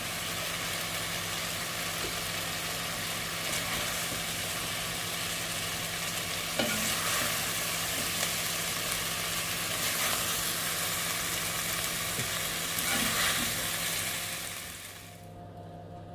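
Softened vegetables being stirred and scraped out of a frying pan for beef bourguignon, a continuous close sizzle with scattered utensil scrapes and knocks before it fades near the end.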